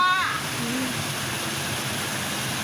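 A small waterfall at the edge of a riverbank pours in a constant broadband rush, close and fairly loud, with a brief bird-like chirp near the start.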